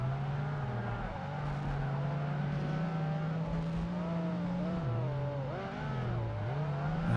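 A Ferrari engine revs continuously in the Project Gotham Racing 2 video game, holding a strong harmonic whine with dips and rises as the pitch shifts, loud and sustained throughout.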